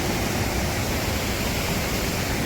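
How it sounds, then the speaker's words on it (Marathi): Kalu waterfall in the Malshej Ghat mountains pours with a steady, even rushing roar, unbroken and fairly soft, with no voices. "बघा रिव्हर्स वॉटरफॉल दिसतोय तुम्हाला तिथे"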